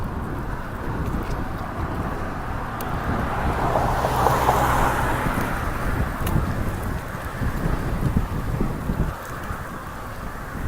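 Wind buffeting a microphone while cycling uphill on a road bike, a loud continuous low roar that swells toward the middle and then settles, with no voices.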